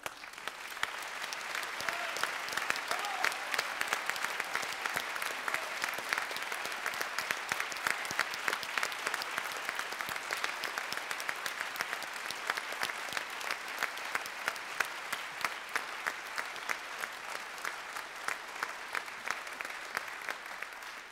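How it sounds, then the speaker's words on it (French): At the closing ceremony of a pleading competition, a large audience keeps up a long, dense ovation. The crowd applause is loud and steady, with no break for over twenty seconds. "Je veux qu'on les applaudisse à tout rompre"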